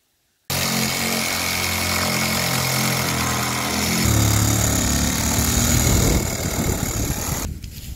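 Old barn board braces being cut through with a power saw during a farmhouse renovation, a steady loud motor whine starting abruptly and grinding on without pause, rising in intensity partway through before cutting off at the end.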